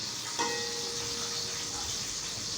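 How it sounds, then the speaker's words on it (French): Finely chopped onions hit hot oil in a pan for a potato, fish and vegetable broth, giving a sudden splash then a steady, close, continuous sizzle and hiss with no talking. "je crois que là notre huile a bien chauffé. On va verser d'abord nos oignons finement découpés."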